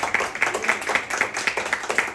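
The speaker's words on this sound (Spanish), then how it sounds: "En un aplauso fuerte a Cristo" A church congregation claps in a strong, steady rhythm, about four claps per second, sharp and evenly spaced, with no talking over the clapping.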